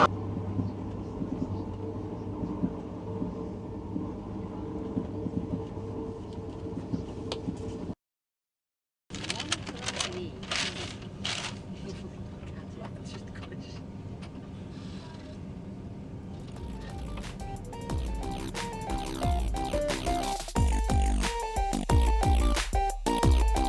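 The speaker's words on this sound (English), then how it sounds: "Meanwhile, there goes that Thalys train." A Thalys high-speed train passes by, a long rushing roar that swells and rattles with clattering wheel and carriage noise after a brief silent gap, heard close on a busy railway platform.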